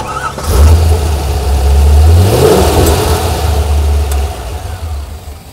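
A motorcycle engine cranks briefly on a 625 CCA dresser battery, then fires and settles into a steady, loud low-pitched running rumble that continues close by for several seconds.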